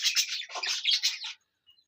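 Male and female birds chirp and tweet near a clay nesting pot, a busy overlapping burst of bright calls for over a second before falling quiet.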